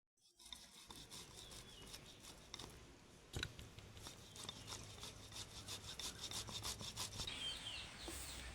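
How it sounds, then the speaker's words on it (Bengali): Potatoes being grated on a hand grater in a home kitchen, a continuous faint scraping rasp with rapid rhythmic strokes that grows slightly louder toward the end. "সবগুলো আলু গ্রেটারে আমি গ্রেট করে নেব।"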